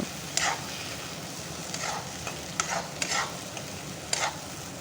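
Drumstick leaves and chana dal fry in a pan with a steady sizzle, while a spatula scrapes and stirs the mixture in several sharp strokes, close and alone without talk.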